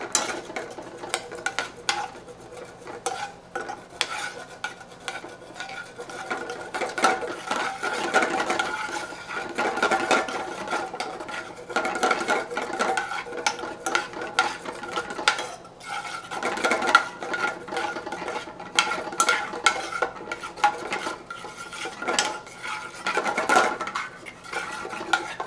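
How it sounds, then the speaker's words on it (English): Butter stirred into a reducing sauce in a pan makes a long run of metallic clinks and scraping taps from a utensil against the pan, irregular and close, with no voices. "Here we got all of our first cube of butter incorporated. We add some more, and we keep stirring."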